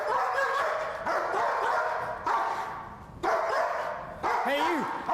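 A police K9 unit dog barks in repeated bursts of several sharp barks with short gaps between them, close and loud, while a handler speaks over the barking.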